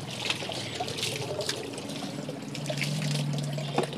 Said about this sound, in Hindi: पहले पूरा गीला कर दो पानी डाल के सब जगह पे।